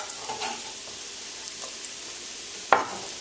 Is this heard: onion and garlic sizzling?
yes